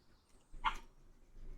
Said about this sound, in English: my dog is like actually freaking out.